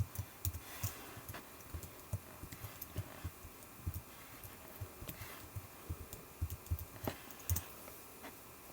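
Computer keyboard typing in Pro Tools as shortcuts are entered, with quick irregular clicks and key taps close by, steady throughout and with no voices.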